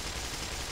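Rapid gunfire in the video game Black Mesa: a brief, dense, continuous burst of shots that fills the short moment at a steady loudness, with no talk over it.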